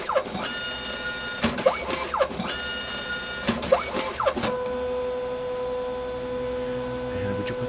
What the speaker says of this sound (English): You can hear the printer starting to warm up now.